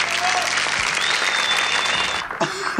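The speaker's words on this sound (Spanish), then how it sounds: "Fuerte el aplauso para ella, por favor." Audience applause breaks out on a comedy stage show, a loud, steady wash of clapping that fills the moment and then starts to thin out toward the end.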